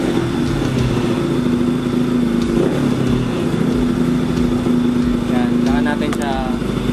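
A Kawasaki Rouser NS200 motorcycle engine idling and revving steadily up toward 4,000 RPM during carburetor tuning, a loud, close, continuous buzzing drone while someone talks over it.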